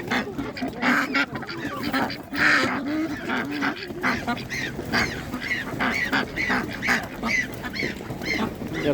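Many ducks at an animal market quack and honk continuously up close, a dense overlapping chorus of fowl with no pauses.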